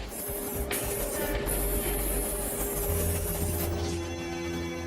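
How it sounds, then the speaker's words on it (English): Spray painting of Lexus LFA car body panels in a factory paint booth, a steady broadband hiss of spray guns running continuously with a low mechanical hum beneath, close and fairly loud. "Up to 5 layers of paint are applied."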